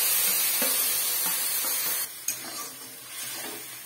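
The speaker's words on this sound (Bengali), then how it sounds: "এখন মশলাগুলো দিয়ে দেব। দেখো মশলাগুলো দিয়ে দিচ্ছি।" Whole spices fry in hot white vegetable oil in a pan, giving a loud, steady sizzle that drops suddenly partway through, then settles into a quieter crackle.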